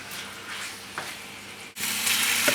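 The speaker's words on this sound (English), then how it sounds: "Just enough to stir fry it around a bit." Steady hiss and crackle of venison stir frying in a hot pan with a little oil, briefly dipping before surging louder and brighter.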